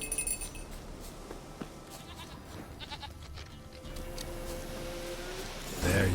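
A goat in the video game The Witcher 3: Wild Hunt gives a bleat amid quiet ambient game noise, with a few soft thuds and a brief louder rustle near the end.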